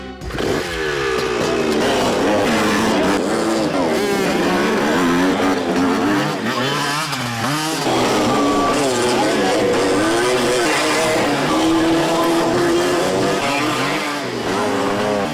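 Motorcycles at a biker stunt school rev loudly and continuously, their engine pitch sweeping up and down. Voices are heard over the engines throughout.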